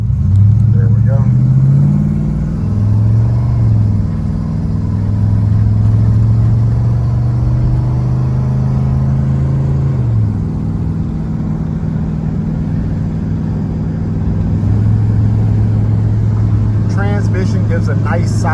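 A 1987 Oldsmobile Cutlass 442 with a freshly rebuilt transmission pulls away hard, engine rising in pitch then dropping at each firm gear change, several shifts in a row, loud and close inside the car.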